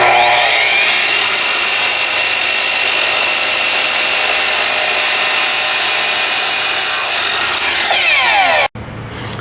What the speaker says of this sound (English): So let's start off by mitering this corner here.